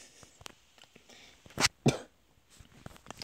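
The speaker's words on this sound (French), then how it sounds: "C'est pour ça que j'ai pas mal toussé." A sick person coughs a couple of times during a video game session, two short sharp bursts close to the microphone amid faint clicks and quiet background.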